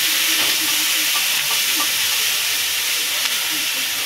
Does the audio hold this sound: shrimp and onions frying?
yes